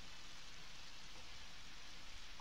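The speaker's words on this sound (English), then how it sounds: "A lot of rain." Steady, soft rain ambience from the Undertale video game, a faint continuous hiss with no distinct drops and no talk.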